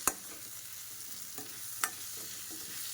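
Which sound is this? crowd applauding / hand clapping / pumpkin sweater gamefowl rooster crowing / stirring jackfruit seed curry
stirring jackfruit seed curry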